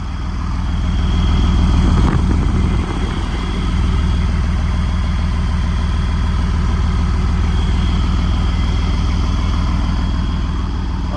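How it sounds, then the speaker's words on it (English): A 1950s Chevy van's exhaust idles with a deep, steady, throaty rumble, loud and close, with a brief rev swell early on. "One more listen to this exhaust here, this beastly exhaust."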